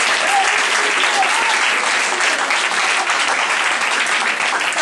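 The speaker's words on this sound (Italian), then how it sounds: "C'è un applauso." Sustained, loud applause from a group of friends at Kristina's birthday party, dense clapping running steadily throughout with a faint voice briefly above it.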